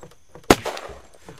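A single sharp gunshot from a gun in Unturned cracks out close and loud, then fades into a brief echoing tail over quiet in-game background sounds.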